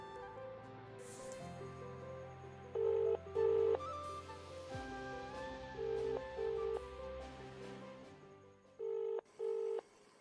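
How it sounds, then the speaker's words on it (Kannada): A phone dials out with short beeping tones, then rings in repeated pairs of steady electronic tones, fairly quiet. "ಇವತ್ತು ನಾನು ಅವನಿಗೆ ಫೋನ್ ಮಾಡ್ತೀನಿ."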